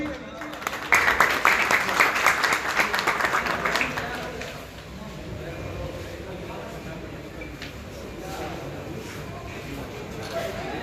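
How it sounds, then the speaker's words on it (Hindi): Audience applause for a performer at a Hindustani music stage event, a loud burst of clapping in the first four seconds that fades into softer crowd noise and chatter. "आप सबकी भरपूर तालियों में"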